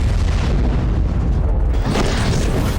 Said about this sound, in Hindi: पांचवा विस्फोट